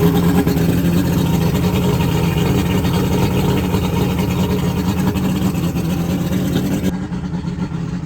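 A boat's outboard motor runs steadily after cranking, a loud continuous engine drone with a low rumbling hum that holds constant, then thins slightly near the end.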